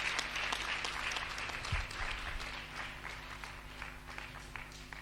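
A congregation at a deliverance church service applauds and cheers, with dense continuous clapping and crowd noise throughout, fairly distant and steady.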